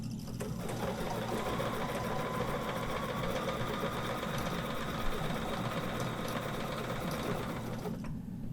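A sewing machine quilting along a 12-inch arc ruler hums with a fast, steady needle chatter that runs evenly for several seconds, close and loud, before stopping near the end.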